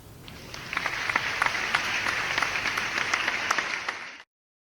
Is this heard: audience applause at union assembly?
yes